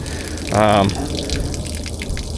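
Water gushes briefly from an opened drain valve on a bass boat, a short loud splashing burst of about a third of a second, followed by faint dripping and background noise.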